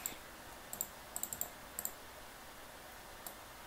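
A computer mouse clicks while working in Revit, with sharp, faint clicks in small clusters and a few double clicks spread over a quiet, hissy background, and no talking.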